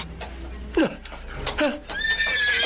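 Horse neighing in short, choppy bursts, followed by a higher, sustained whinny that builds toward the end, fairly close and moderately loud.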